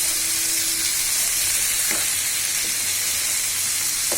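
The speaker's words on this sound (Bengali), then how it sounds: "এবার বরবটি দিয়ে কিছু সময় ভাজি করব।" Yard long beans fry in a pan with a continuous close sizzle and occasional stirring scrapes, the crackle holding steady throughout with no talking.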